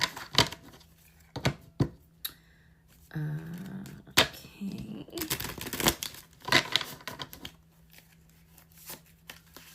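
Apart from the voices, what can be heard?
shuffling tarot cards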